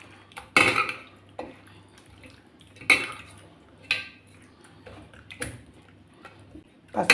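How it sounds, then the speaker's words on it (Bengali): Chital fish belly pieces being mixed with salt in a bowl, giving a series of sharp clinks and scrapes of utensil against dish spaced a second or so apart, close and fairly loud with quiet gaps between. "দিয়ে দিলাম লবণ, দিয়ে আমি মাখিয়ে নিচ্ছি মাছগুলোকে ভালো করে"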